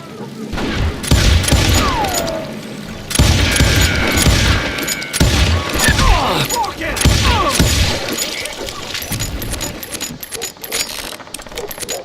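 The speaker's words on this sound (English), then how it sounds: "I was just glad I had Deputy Bob's mean-ass shotgun." Shotgun blasts and other gunfire in the Wild West shooter Call of Juarez: Gunslinger, loud repeated shots with metallic clatter across a dense, continuous fight, with voices in the mix.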